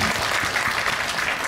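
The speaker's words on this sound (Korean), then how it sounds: "박수 한번 부탁드립니다" An audience at a post-screening talk in a Seoul cinema applauds, a dense, continuous wash of clapping heard alone at moderate volume for the whole short stretch.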